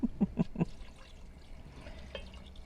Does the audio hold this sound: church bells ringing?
no